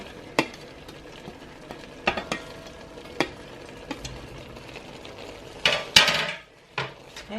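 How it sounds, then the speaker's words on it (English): A spoon stirs browning meat with onions and garlic in a pan, scraping and knocking in scattered bursts over a soft, steady sizzle, close by with no talking. "Okay, so we're going to give that a stir."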